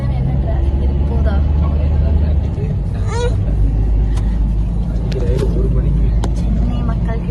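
Heavy midday city traffic in Chennai rumbles close by, with engine drone, passing vehicles and short horn honks under ongoing conversation.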